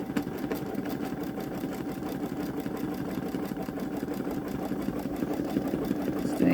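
A Babylock Solaris Vision embroidery machine works a satin stitch on a stretchy sweater, a rapid, steady mechanical stitching patter that runs unbroken and close, growing slightly louder toward the end.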